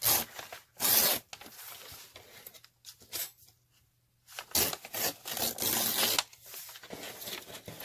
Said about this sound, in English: So I'm gonna randomly cut some pieces.